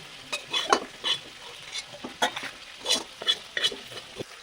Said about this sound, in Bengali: কড়া করে ভেজে নিতে হবে টমেটোটা সুন্দর করে